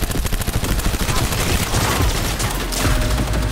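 Rapid gunfire in Cyberpunk 2077, a dense, loud burst of shots in quick succession, with a voice faintly present beneath.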